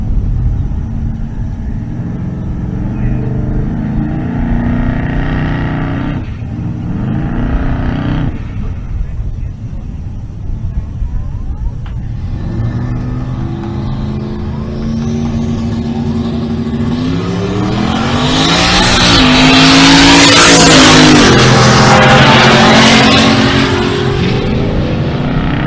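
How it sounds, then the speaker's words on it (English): Brandon Tapp's 1964 Corvette drag car, in the Ultimate Radial class at a Pueblo, Colorado drag strip, revs in short bursts, then launches with a loud, rising engine scream that swells to a roaring peak and fades as it pulls away. "That's Brandon Tapp in the left lane, the 64 model Corvette."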